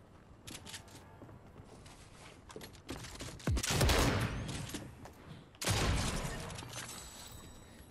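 Automatic fire from an assault rifle in Fortnite, two loud bursts of rapid shots with a lighter, more scattered patch of gunfire before them.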